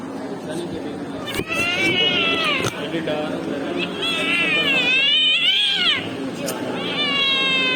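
A sick cat meows repeatedly, with several drawn-out, wavering cries close by, while a person talks underneath.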